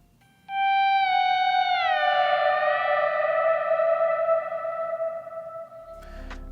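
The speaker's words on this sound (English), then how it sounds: "I'm gonna kick on a higher gain overdrive" An electric guitar slide melody through high-gain overdrive, playing a worship song: one sustained note that bends and slides gradually downward with rich harmonics, loud and alone.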